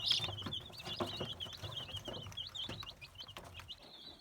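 Many six-day-old Leghorn chicks chirp continuously in rapid, high-pitched peeps, close by, with soft scratching and shuffling underneath.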